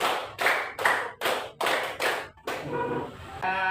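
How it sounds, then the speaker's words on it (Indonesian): A class claps together in a counted pattern: groups of sharp, loud unison claps in quick rhythm, ending with a brief pause and faint room noise. "tepuk satu dua tiga."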